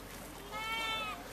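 A goat bleats once in a drawn-out, wavering cry at a high school rodeo goat-tying event, moderately close and rising briefly over a steady hum of arena background noise.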